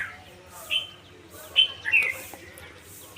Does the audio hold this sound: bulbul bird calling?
yes